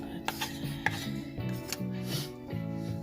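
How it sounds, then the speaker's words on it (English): A utensil scrapes cooked, dried milk and dates around a pan, giving soft, irregular scratching strokes with a few light metallic taps, quiet and close with no voices. "I want to scrape all the extra milk that is here."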